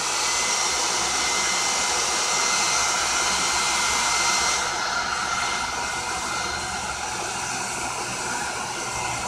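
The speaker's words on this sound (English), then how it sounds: "I'm going to blow dry that" Hair dryer blowing steadily on gesso spread over an altered book page, a loud continuous whooshing roar that holds for several seconds and eases slightly partway through.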